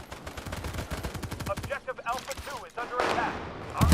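Rapid bursts of gunfire in the game World War 3 crack in quick succession, a heavy volley near the end, with a voice talking over it.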